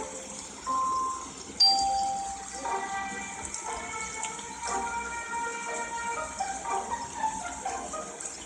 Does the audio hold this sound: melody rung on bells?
yes